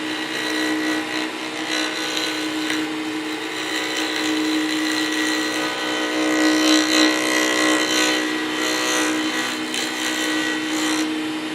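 Record Power Herald lathe spinning at 4,000 RPM while turning a Fordite pen blank, a loud, steady motor whine and hum holding constant throughout, close up with no talking.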